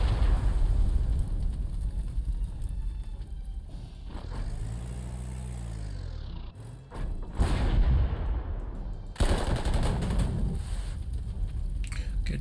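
Artillery and gunfire in the World War II strategy game Panzer Corps 2 come as heavy booming thumps and rumbling blasts, loud and close, with a few separate shots across a continuous low roar.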